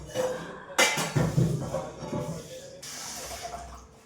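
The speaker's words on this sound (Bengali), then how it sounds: "একদম গরম গরম হয়ে যাচ্ছে কড়াইটা জলে দিয়ে দিই" A hot kadai set into water gives a sudden sharp hiss, a brief fizzing decay with some clatter, then a second, softer hiss a couple of seconds later.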